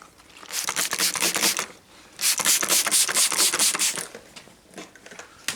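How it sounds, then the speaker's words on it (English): Wet sanding with 3000-grit foam sanding paper on Atari cabinet side art next to wood, two bursts of quick rhythmic rubbing strokes with a short pause between, close and alone without talk. "Remember, if you're wet sanding this, you're wet sanding next to wood."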